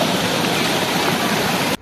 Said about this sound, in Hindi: ये देखें पीछे से बैग से पानी आ रहा है